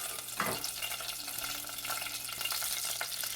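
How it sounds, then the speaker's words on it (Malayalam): Mustard seeds, dried red chillies and curry leaves sizzle steadily in hot oil for a Kerala rasam tempering, a continuous near crackle with a few sharper pops, no voices. "അപ്പോൾ ഞാൻ ഇതിലേക്ക് കടുക് ഇടുകയാണ്. വറ്റൽമുളകും കറിവേപ്പിലയും."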